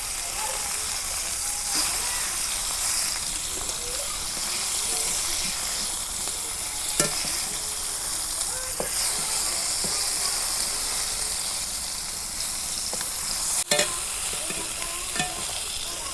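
Fish pieces fry in oil in a pan, giving a constant close hiss and crackle, broken by occasional clicks and scrapes of a spatula, with no voices.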